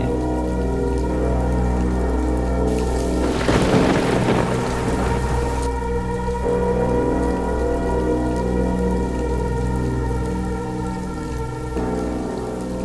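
Heavy rain pours steadily through a night storm while a long rumbling roll of thunder swells and fades in the middle, over a low, constant droning tone.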